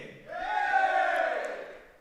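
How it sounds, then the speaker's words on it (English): A wrestling crowd at a DOA family show in Ipswich cheers in a single swelling roar that rises, holds for about a second, and fades, loud and close with no talk over it. "give me a cheer"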